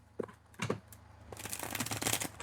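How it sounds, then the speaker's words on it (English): Tarot cards are shuffled by hand, a few quick riffling bursts followed by a longer continuous flurry of card flicks, close and clear with no talk. "I need to shuffle this the other way because they're getting bent on me"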